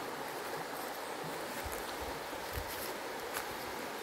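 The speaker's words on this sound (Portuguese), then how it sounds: "Olha aí os barulhos das águas, né? E também uma pequena cachoeira, né?" Steady broadband rush of flowing water from a small waterfall in a forested cacao plantation, continuous and moderately close, with no talk over it.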